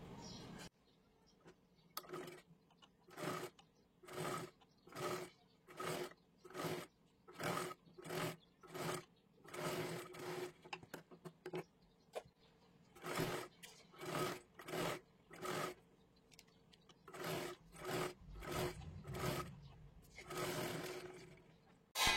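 Sewing machine stitching a sleeve, running in short regular bursts of rapid stitching separated by brief pauses, close and fairly quiet.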